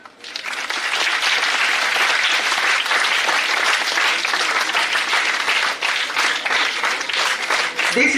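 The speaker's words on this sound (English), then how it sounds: "Can we have a clap?" Loud, sustained applause from an audience at a live rabies-prevention talk in Goa, rising quickly from near silence into a dense, steady roar of clapping that holds for several seconds.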